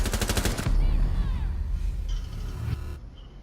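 Rapid automatic gunfire in the Rainbow Six Siege video game, a loud burst of repeated shots that cuts off, followed by ringing echo and fading noise.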